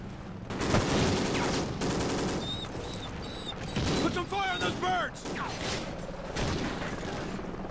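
An M4 rifle in Call of Duty: Ghosts fires in quick bursts with mechanical clacks and clatter, loud and near, while someone talks over the gameplay.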